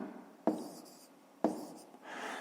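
Numbers written by hand with a pen on paper during a maths exercise, two short scratchy strokes followed by a softer longer one, close and quiet.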